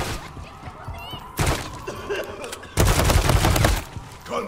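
Bursts of automatic gunfire in Call of Duty Modern Warfare 3 on Xbox Series X, with dense rapid volleys at close range, a pause, then a louder sustained burst, under scattered in-game voices and ambience.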